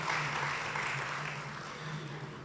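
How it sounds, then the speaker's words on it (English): Volunteers at a YMCA recognition event applaud themselves, a steady wash of crowd clapping heard at moderate distance, holding level and tapering slightly near the end, with a faint low hum beneath. "I would like for you to give yourselves a round of applause"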